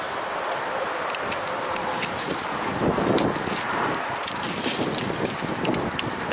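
Strong wind roars and buffets continuously across the microphone, with scattered rustling and knocking sounds of falling branches throughout, outdoors while flintknapping obsidian.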